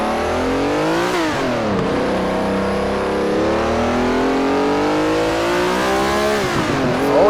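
A race car engine roars and revs hard in Assetto Corsa, a Ferrari 330 P4 or Ford GT40 at Laguna Seca on cold tires, loud and continuous with pitch climbing through gear changes and no talking.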